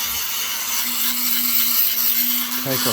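A Dremel rotary tool grinds rough opal picture stone with a loud, steady high whine and gritty abrasive hiss, near and continuous, shifting pitch slightly near the end.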